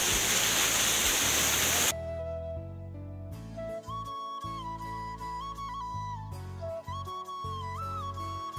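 Jana Waterfall near Jana village pours with a loud, steady roar of rushing water for about two seconds, then cuts abruptly to music.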